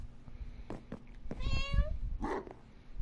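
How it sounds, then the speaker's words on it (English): A cat in Minecraft meows a few times in quick, short calls, ending with one drawn-out, rising meow that is fairly close and clear. "Cute cat."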